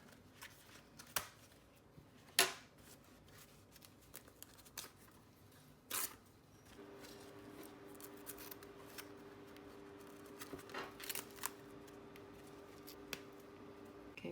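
Scissors snip off tacking threads on a vinyl two-zipper top-zip purse. There are a few faint, sharp clicks and cuts spaced apart over a quiet background with light handling rustle.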